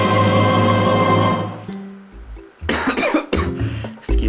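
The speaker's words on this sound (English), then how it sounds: "I have a bit of a cough, in case you couldn't tell." Coughing from a man playing Zelda: Twilight Princess: after some game sound fades, a few close, harsh coughs come in quick bursts, with throat noise between them.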